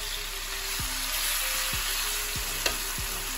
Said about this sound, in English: This time we actually got a sizzle